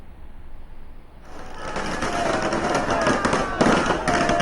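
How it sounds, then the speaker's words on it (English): Firecrackers burst outside Jayalalithaa's Poes Garden residence in Chennai as crowds of supporters gather, rapid crackling pops rising suddenly from a quiet start and staying loud, with sharper bursts toward the end. "Firecrackers there being in fact burst outside Jayalalitha's Poise Garden residence."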